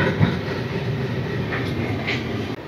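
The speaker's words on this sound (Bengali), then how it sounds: "আমার পাশ দিয়ে যাচ্ছে কাটিয়ার হাওড়া এক্সপ্রেস।" The Katihar–Howrah Express rolls past at night, a steady rumbling roar of wheels and carriages heard from a nearby vehicle on the road.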